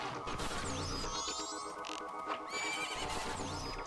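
A horse in the video game Majora's Mask neighs twice in loud, whinnying cries at the start and end, over dense layered game music.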